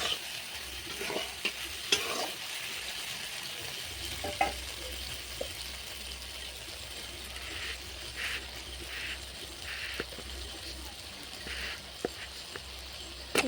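A pan of fried pointed gourd and soybean curry is stirred, with a steady low sizzle running throughout and scattered scraping clicks from the spoon, heard close with no talking.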